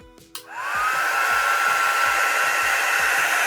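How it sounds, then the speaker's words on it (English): A hair dryer or heat gun clicks on and blows steadily on nano tape, a loud continuous whooshing hum with a faint high whine, running alone without pause. "I would highly recommend using the heat gun or a hairdryer just to heat this up"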